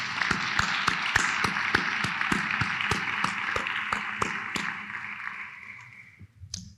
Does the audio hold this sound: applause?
yes